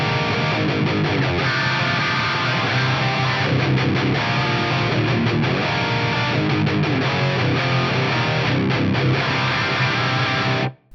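High-gain electric guitar played through a Fractal FM3 modeler with a Greenback speaker cab, thick saturated chords and riffs ringing continuously at full volume before cutting off abruptly at the end.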